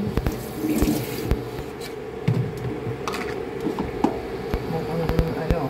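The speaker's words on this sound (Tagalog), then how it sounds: "Dagdagan pa natin ng tubig" Water pours and splashes into a pan of sautéed pumpkin and string beans, a running trickle with occasional clinks and taps of utensils close by.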